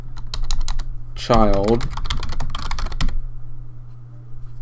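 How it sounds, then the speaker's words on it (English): Fast computer keyboard typing while coding, with dense bursts of key clicks up close over a steady low hum, partly overlapped by a brief voice in the middle. "my typing is always terrible"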